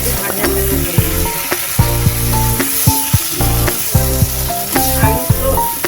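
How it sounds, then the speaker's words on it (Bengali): Potatoes fry in oily spice masala for bhindi masala, a steady close sizzle with stirring scrapes, running under rhythmic background music. "এবারে আমি আলুটা ভেজেতে দিয়ে দেবো, দিয়ে একটু মশলার সঙ্গে একটু ভাজা ভাজা করে নেব"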